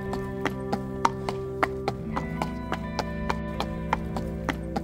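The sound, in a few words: horse moving during training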